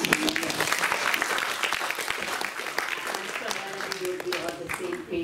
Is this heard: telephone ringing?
no